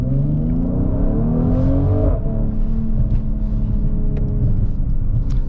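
A Mercedes GLC 43 AMG accelerates hard and close by, its engine note climbing through rising harmonics, dropping briefly at a gear change near two seconds, then pulling on with a steady loud roar and no talk over it.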